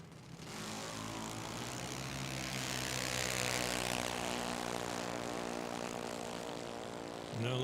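A drag racing car engine rumbles loud and steady behind the timing tower at Tucson Dragway, a sustained harmonic drone holding for several seconds before a sharper low surge near the end, with no talking.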